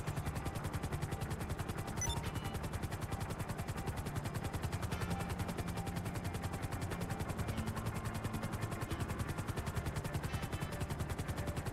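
A helicopter in the video game GTA Online keeps up a continuous rapid rotor chop, mixed with steady gunfire-like clatter throughout, loud and unbroken with no talk.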